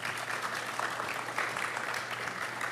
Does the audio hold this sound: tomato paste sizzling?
no